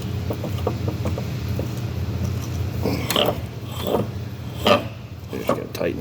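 A hand tool clicks and ratchets on a part of a 2-inch Safeway valve being rebuilt, giving a few scattered metallic clicks and scrapes over a steady low hum, fairly close.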